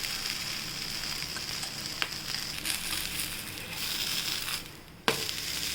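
Onion tomato uttapam batter fries on a hot griddle with a steady close sizzle, a couple of sharp clicks and a brief dip in the hiss near the end.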